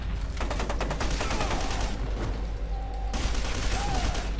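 Bursts of fast automatic weapon fire in the shooter game F.E.A.R. 2, loud and near, pausing briefly before another rattling volley.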